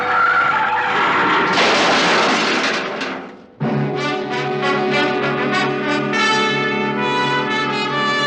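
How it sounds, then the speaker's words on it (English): A car's brakes are jammed on hard and its tires skid and squeal loudly near a toll gate, a long harsh screech that cuts off briefly and then returns as a sustained wailing squeal. "I took my foot off the accelerator and then jammed down on the brakes as hard as I could."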